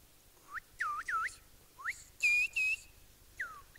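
Clear, pitched whistles rise and fall in short phrases with pauses between them, a performance of Silbo, the whistled language, in a quiet room.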